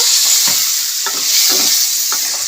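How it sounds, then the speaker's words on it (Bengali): Chicken is stirred in a hot pan with cumin powder and salt, with a loud, steady sizzle carrying through and four soft, evenly spaced scrapes of a spoon. "জিরের গুঁড়ো দিয়ে দেবো নুন দিয়ে দেবো দিয়ে একটু নাড়িয়ে নেব"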